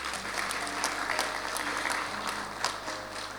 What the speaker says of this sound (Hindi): अब बजा लें अगर समझ में आई है ताली तो